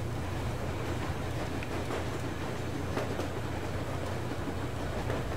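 A train rolling along rails in Metro Exodus, a steady close rumble with faint rhythmic clatter, continuous and alone without talk.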